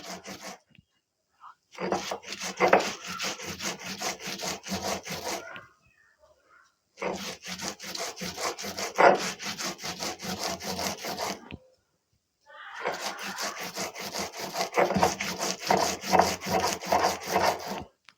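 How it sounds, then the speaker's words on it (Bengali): Prawn heads are ground on a shil-nora grinding stone, giving rhythmic scraping strokes in three long bursts separated by brief silences, close and fairly loud. "আমি এখনও শিলনোড়া ব্যবহার করি"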